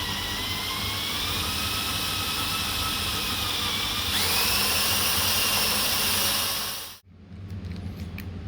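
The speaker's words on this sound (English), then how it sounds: "Drill on reverse with these type of drill bits." A power drill runs in reverse, whining loudly and steadily, its pitch shifting midway, then cuts off abruptly, leaving faint rustling.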